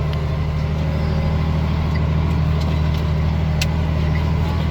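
A Magnum tractor pulls a vertical tillage implement across a field, its engine droning with a loud, steady low rumble that stays unbroken throughout.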